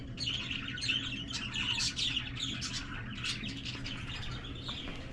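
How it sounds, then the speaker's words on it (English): Many birds chirp and tweet continuously in a dense, busy chorus like a rainforest, moderately loud and steady, with no talk over it. "if you like that sound of birds chirping"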